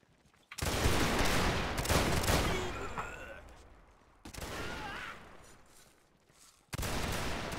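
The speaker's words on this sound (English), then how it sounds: "Fire at will." Massed musket volleys in Mount & Blade Napoleonic Wars, three loud crackling fusillades rolling out and fading, each a dense burst of overlapping shots.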